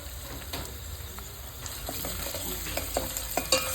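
Chopped onion frying in oil in a pan while cooking millet mango rice, a steady sizzle with faint stirring scrapes rising toward the end, close by with no talking.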